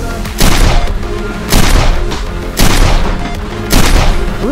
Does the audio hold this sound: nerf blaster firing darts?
yes